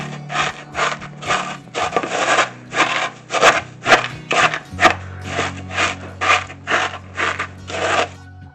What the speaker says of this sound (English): 3 cups of Rice Krispies, and you want to crush them